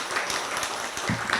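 Applause from an audience at a devotional discourse in a temple, a brief steady patter of many hands clapping at moderate volume.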